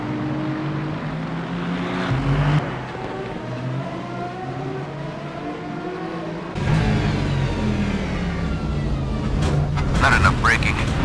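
Racing car in Le Mans Ultimate at the Imola 6 Hours, its engine note climbing through gears, pausing briefly, then surging again at close range, with a voice talking over parts of it.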